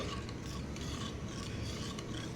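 A spoon stirs salt and turmeric into fenugreek seeds, a steady close scraping and rubbing that runs continuously for a couple of seconds with no voices.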